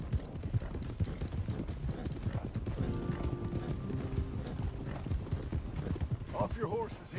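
Horse hooves clip-clopping steadily in the Western video game Red Dead Redemption 2, a continuous rhythmic trot close by, with a brief whinny near the end and voices talking over it.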